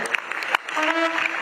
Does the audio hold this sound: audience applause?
yes